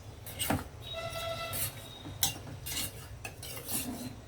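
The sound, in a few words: mixing chicken pieces with salt and turmeric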